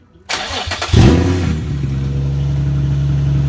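A Nissan 350Z fitted with a Megan Racing exhaust and test pipe cranks briefly, then fires up with a loud close roar that settles into a deep, steady idle rumble.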